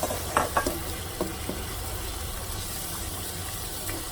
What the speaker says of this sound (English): I'm going to stir Mix it up.